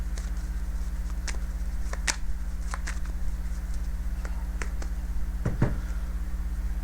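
Tarot cards are shuffled in a quiet room, giving soft, scattered close-up taps and riffling clicks over a steady low hum, with a slightly louder flurry near the end.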